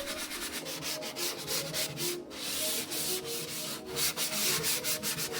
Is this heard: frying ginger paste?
no